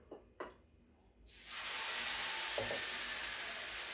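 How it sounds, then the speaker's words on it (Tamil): Kudiravali oothappam batter poured onto a hot pan, giving a few soft taps before a sudden loud, broad sizzle that swells and then holds steady to the end. "நல்லா ஊற்றப்ப மாதிரி ஊற்றி எடுக்கணும்."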